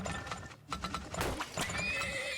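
Horses neigh and whinny over the clatter of hooves in the farming video game Turmoil, several overlapping calls close and clear against a busy game backdrop.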